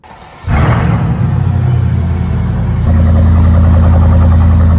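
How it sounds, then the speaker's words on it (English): A car engine cold-starts with a sudden loud crank-and-catch, then settles into a steady, close, rumbling idle that deepens slightly toward the end. "Here, cold start."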